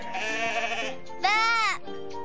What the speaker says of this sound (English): Look, Gran Gran, here are the sheep.